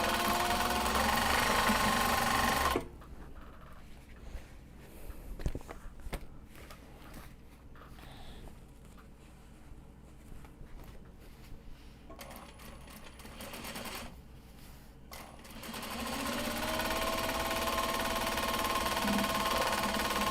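A sewing machine stitches a straight seam at speed in a loud, fast whir at the start and again at the end, with quieter handling and light mechanical clicks between the two runs.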